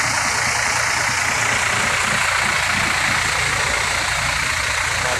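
A Ramayana bus engine idles in a steady, continuous low rumble with a constant hum, loud and close, with no talk over it.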